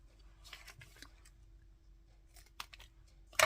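Paper card pieces for handmade greeting cards being trimmed with scissors in a quiet craft room, a few soft snips and rustles ending in a sharper close cut.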